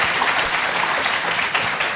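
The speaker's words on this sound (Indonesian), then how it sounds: "Kita berikan aplaus sekali lagi." Studio audience applause at the close of an Indonesian TV talk show, a dense, steady wash of many hands clapping that holds loud and even throughout.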